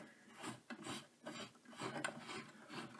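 Bolts being removed from the yoke of an LED Slimpar DMX light, heard as close, repeated rasping, ratcheting turns in a quick rhythm.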